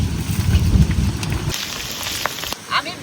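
Rain pours steadily on an outdoor village cooking spot, first heavy and close, then lighter patter with scattered drops, while a pan of banana stem fries in mustard oil.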